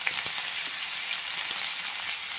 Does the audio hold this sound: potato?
yes